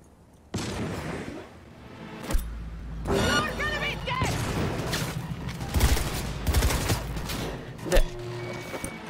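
Gunfire bursts and explosive crashes from the video game Cyberpunk 2077, loud and repeated across the scene amid clanking mechanisms and game effects, with voices speaking over parts of it.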